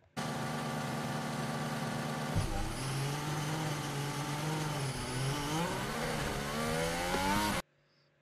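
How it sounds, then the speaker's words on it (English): Formula 1 car engine bogging down at a race start, a buzzing idle that drops abruptly, then revs climb and waver in uneven rising pitches before cutting off, heard alongside other engines. "Bit of bogging down, getting off the line."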